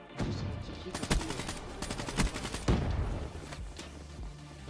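Rapid gunfire from a Call of Duty: Black Ops 3 online match, dense bursts of sharp shots and automatic fire crackling continuously at close range with no talk.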